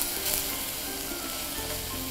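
Vegetables grilling in soy-free plain heat, a steady dense sizzle and crackle of moisture escaping, close and continuous without talk.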